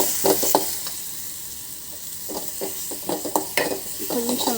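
Tempering spices for dal fry in hot oil with a continuous crackling sizzle, punctuated by close metallic scrapes and stirring clatters of a spoon against the pan.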